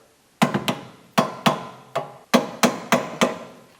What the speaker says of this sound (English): you'll need to break this part free from the caliper